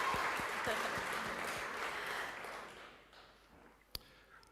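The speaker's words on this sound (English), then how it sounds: "Let's give George a round of applause" An audience at a creative-week event claps in a broad wash of applause that swells, then fades over a few seconds, ending with one sharp stray clap.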